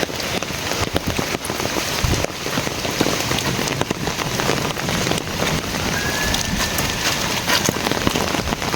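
Steady afternoon rain pours over a village, a dense, continuous hiss of drops on roofs and surfaces with scattered louder drips, close and even throughout without voices.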